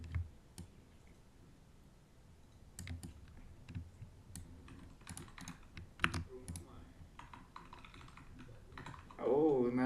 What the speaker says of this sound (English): The keyboard strokes sound crunchy.